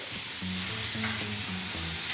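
Chorizo risotto sizzles steadily in a pan, a dense hiss with soft scraping as it is stirred at an even pace, close and alone.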